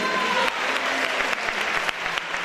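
Church congregation claps in praise, a loud, dense burst of applause that continues steadily with a few sharper individual claps standing out.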